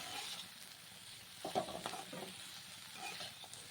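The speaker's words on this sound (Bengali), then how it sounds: "এবার ধীরে ধীরে খুব সুন্দর করে ভালো করে নেড়ে নেড়ে যেতে হবে" Chopped bottle gourd leaves frying in a pan over low heat, a soft sizzle with a few scraping stirs, quiet and close, without talking.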